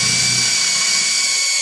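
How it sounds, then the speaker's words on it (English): Power drill stepping up to a larger bit to enlarge a hole for a Miata turbo oil drain, a steady high whine running continuously at close range with no talking. "I'm stepping up to a larger bit and going to be drilling it out with the next step larger."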